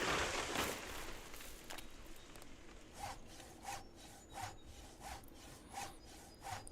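Wood being sawed in The Last Plague: Blight survival game, a quiet rhythmic back-and-forth rasp with about six even strokes repeating after a brief scrape at the start.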